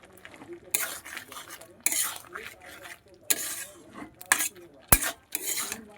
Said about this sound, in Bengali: এবার একটু নাড়াচাড়া করে দেবো